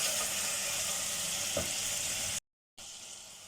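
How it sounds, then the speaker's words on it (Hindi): Chicken frying in a pan over a medium-high flame for achar gosht, a steady broadband sizzle running close and even for over two seconds, then a brief drop to silence before the sizzle resumes. "अब 2 से 3 मिनट जो है वो मीडियम टू हाई फ्लेम पे चिकन की भुनाई कर लेंगे"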